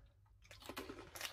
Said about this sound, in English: Crunchy. They're hard, then.